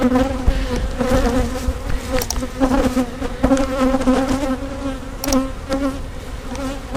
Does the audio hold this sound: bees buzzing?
yes